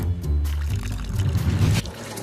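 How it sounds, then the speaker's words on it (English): Water running from a reverse osmosis drinking-water filter into a small desktop aquarium, a continuous close splashing flow that thins and drops slightly at the end. "I'm gonna fill it up with this reverse osmosis water filter that I get my drinking water out of"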